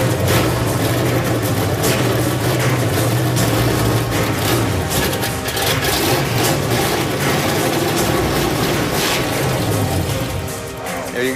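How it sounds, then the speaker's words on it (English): A car engine at a build-off competition runs loudly and steadily with a deep rumbling idle and some revving, close, with voices faintly in the mix. "Thank God the engine started."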